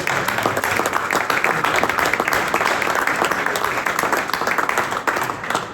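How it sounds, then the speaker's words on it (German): A crowd at a ski equipment media day in Bergheim, Salzburg, claps continuously and loudly, a dense, even roar of applause with no pauses. "einen dicken Applaus für Mikaela Shiffrin."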